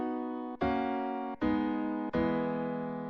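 Slow synthesizer chords step downward in a lower octave, four sustained chords in turn, each struck cleanly and left to ring and fade before the next, with no voices.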